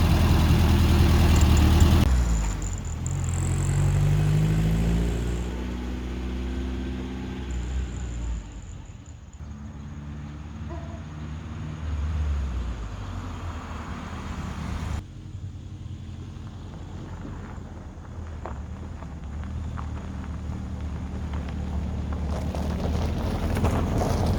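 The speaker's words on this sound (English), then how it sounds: "We're going to take it for a test drive and see how it does." Volkswagen Super Beetle fitted with a new carburetor, heard from inside on a test drive: the engine revs up and settles into a steady drone with gear changes and wind buffeting, and no one talks.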